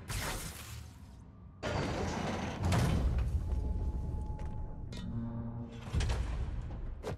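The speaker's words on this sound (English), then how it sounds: "Trap door." A heavy trap door slides open in the video game Marvel's Spider-Man, giving loud grinding mechanical scrapes and rumbles in several surges, with a creaking tone in between.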